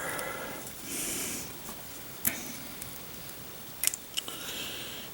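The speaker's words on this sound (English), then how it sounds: "You want to cut this all the way off past the border." Scissors snip through a model decal sheet, cutting past the printed border: a few sharp, close clicks and short slices over faint room hiss, with no talk.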